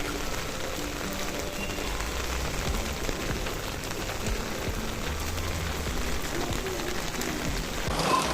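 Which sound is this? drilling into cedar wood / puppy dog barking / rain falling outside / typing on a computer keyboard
rain falling outside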